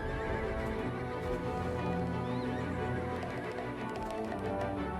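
Horses neigh and whinny over clip-clopping hooves in the Black Desert Online game world, a dense, continuous layer of animal sounds with no talking.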